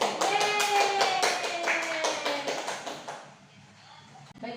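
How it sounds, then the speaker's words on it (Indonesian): A classroom of students claps in steady, quick rhythmic applause for about three seconds before it fades, with a faint voice over the clapping. "Beri aplaus untuk mereka."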